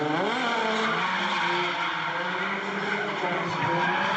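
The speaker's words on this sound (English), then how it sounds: "Chester with a nice fluid lead line here, transitioning into the first OZ." A drift car skids through a transition at Orange Show Speedway during Ultimate Drifting Challenge qualifying, tires squealing in a loud, continuous wail over the engine's whine for the full stretch.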